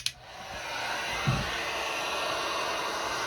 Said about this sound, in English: take my heat gun again